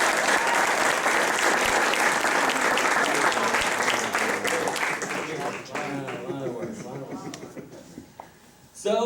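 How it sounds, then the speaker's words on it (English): Wedding guests break into loud, sustained applause for the couple Kyle and Jess, the clapping thinning and fading toward the end as a voice starts speaking over it. "So I think we should all give them a round of applause for their finally finished new home."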